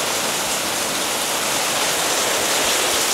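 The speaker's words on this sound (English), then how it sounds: "Look at the water just pouring off my roof." During Hurricane Milton, heavy rain pours and streams off a house roof without gutters, a loud, unbroken rushing hiss like a small waterfall with no voices.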